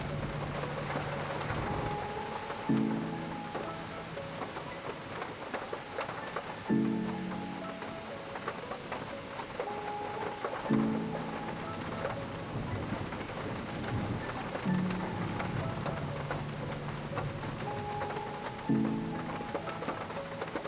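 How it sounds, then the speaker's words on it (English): A thunderstorm directly overhead: steady heavy rain pours throughout while deep thunder rumbles roll in every few seconds, with soft recurring tonal notes in the background. "The storm is directly overhead now, and the sound of its rain and thunder make you feel even more alive and free."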